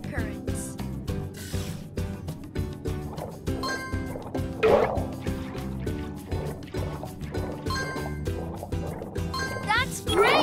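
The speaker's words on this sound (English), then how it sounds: "Ride the water currents." Splashing, gurgling water from a swimming level of the Paw Patrol On a Roll video game, with bubbly liquid sounds and drips beneath steady game music and a narrating voice.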